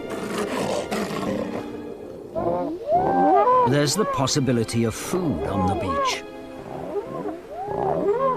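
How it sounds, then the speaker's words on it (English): Gannet whales, fictional 3-metre-long creatures lolling on an icy-region shingle beach in a speculative future, give loud, repeated roaring, moaning calls that rise and fall over surf, with a narrator speaking briefly over them. "Gannet whales, 3-meter-long, ungainly-looking creatures, are lolling on the shingle."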